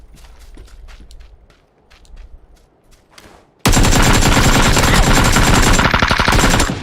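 Video game gunfire starts with scattered shots, then breaks into a loud, continuous automatic burst lasting several seconds and cutting off abruptly near the end.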